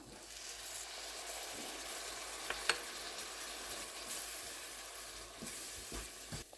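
Dry mango pickle spices, asafoetida powder and fenugreek powder among them, being stirred together in a bowl, giving a steady soft scraping and rustling with a few sharper ticks from the spoon, close by and with no talking.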